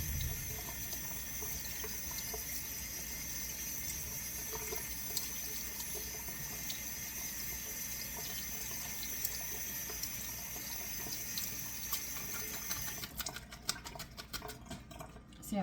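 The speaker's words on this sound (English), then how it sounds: "let that cold water run through them" Cold water from a kitchen tap runs over leeks in a sink, a steady close splashing hiss that continues throughout and turns more irregular near the end.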